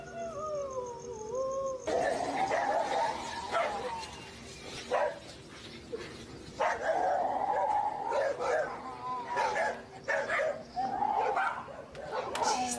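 A dog gives drawn-out growls broken by sharp barks, close and loud, in several bursts separated by brief pauses.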